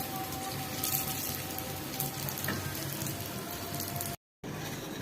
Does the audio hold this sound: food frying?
yes